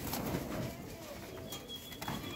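Pigeons coo at a pigeon-trading loft, low murmuring calls under a busy, noisy background with a brief flutter of wings, fairly faint and without talk.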